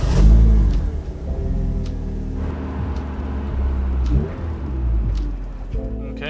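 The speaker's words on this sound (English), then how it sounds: "I think we should go for a test drive" Mazda Miata fitted with new front and rear frame-rail cross braces on a test drive, a low steady engine rumble with rises and dips as it accelerates, loud and close from inside the car, with faint voices beneath.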